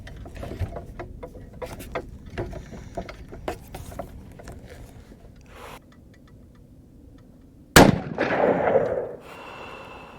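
.308 rifle fired in open desert: one sharp, loud report with a brief rumbling tail, after a stretch of small handling clicks and taps.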